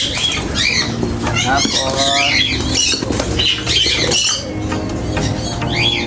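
Imported pigeons in a loft flutter and coo, with busy bird calls and rustling wing sounds continuing throughout while someone talks over them.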